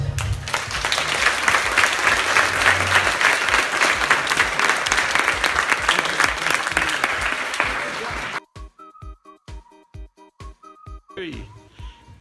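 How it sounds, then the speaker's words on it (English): A big round of applause for a cryptocurrency panel fills the room for about eight seconds, dense and loud, then cuts off abruptly to someone speaking alone. "Let's give them a big round of applause."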